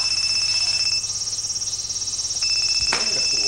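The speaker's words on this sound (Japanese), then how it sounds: "電話。" A telephone rings with steady electronic trilling tones throughout, fairly loud and close, with a brief bump near the end.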